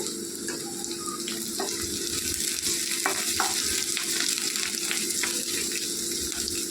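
Chopped green chillies fry in oil with a continuous bright sizzle and occasional clicks of stirring, close up and fairly loud, with no talking.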